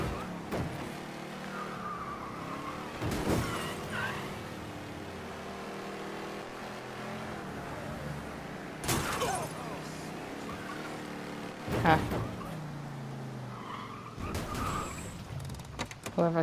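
A car driven in the video game Mafia 3 rumbles steadily through the scene with several sharp impact or skid bursts, under a voice talking.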